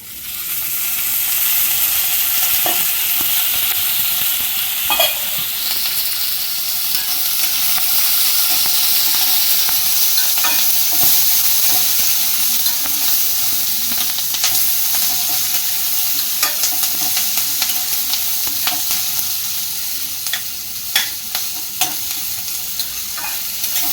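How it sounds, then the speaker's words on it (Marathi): Onions fry in oil in a pan, a loud continuous sizzle and hiss with repeated scraping stir strokes and scattered clicks throughout, no voices. "कांद्यामध्ये आता आपण इथे थोडंसं तेल घालून घेऊयात."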